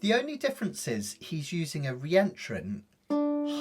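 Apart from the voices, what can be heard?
No distinct noise like a dog, phone or traffic.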